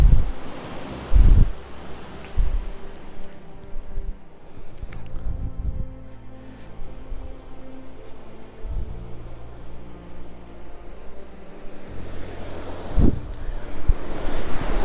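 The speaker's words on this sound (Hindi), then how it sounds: "यह है भागीरथी नदी" Bhagirathi river at the Gangotri ghat rushing steadily in winter, a continuous broad wash of flowing water with gusts of wind buffeting close by and a few louder bumps and knocks.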